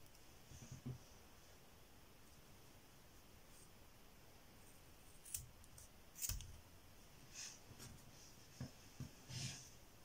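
Scissors trimming the end of a kumihimo braided bracelet, a few faint, sharp snips and clicks close by in a quiet room, with soft handling rustles between them.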